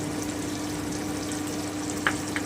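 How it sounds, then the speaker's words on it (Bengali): Cumin paste and spices fry in a pan with a dense, even sizzle close by, followed by a couple of soft scraping touches from a stirring utensil. "আমি আরেকটুখানি ভেজে নিচ্ছি এবারে আমি জিরে বাটাটা দিয়ে দিচ্ছি"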